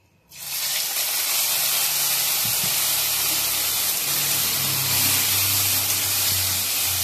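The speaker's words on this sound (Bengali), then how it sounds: "এবার শামুকটা আমি ভেজে নিচ্ছি।" Loud, steady sizzling of snails frying in hot oil in a pan, a constant hiss with faint clinks of a utensil underneath.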